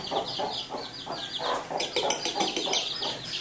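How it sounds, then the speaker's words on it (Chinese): Chicks and chickens cluck close by in a rural village yard, with repeated short clucks and higher peeping chirps overlapping in quick, irregular bursts. "你看，这有小鸡娃，小鸡娃，看见？"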